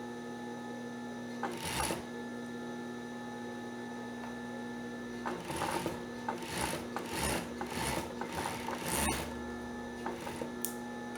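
A sewing machine runs in short bursts while stitching a swimsuit seam over a steady electrical hum, with brief pauses between runs and no talking.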